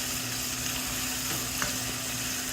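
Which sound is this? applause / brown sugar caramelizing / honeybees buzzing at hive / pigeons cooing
brown sugar caramelizing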